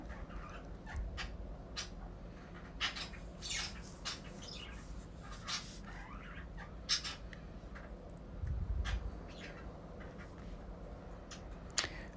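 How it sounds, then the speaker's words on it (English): Birds indoors chirp and squawk in sharp, irregular bursts, some calls loud and close, others softer, over a quiet hum. "Even my birds sound excited in the background."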